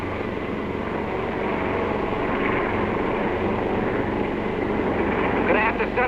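A steady, dense drone of damaged bomber engines fills the scene as the plane loses altitude, a constant loud roar with no pauses, heard close and continuous.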